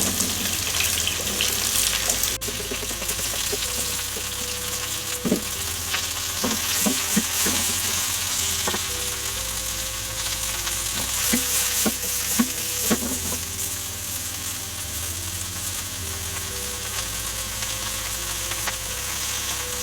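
Vegetables and wagyu beef fry in an oiled pan with a constant crackling sizzle, broken by a series of clacking stirs and utensil taps against the pan.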